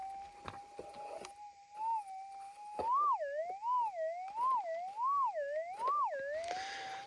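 A metal detector sounding over a buried target in a remote digging area, a clear warbling electronic tone that rises and falls in quick swoops, loud and close, with a few scraping knocks.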